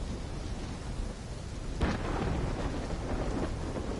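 A Call of Duty thunderstorm: steady hiss of rain with a rumbling thunder crack breaking in near the middle, then rolling on as a low continuous roar.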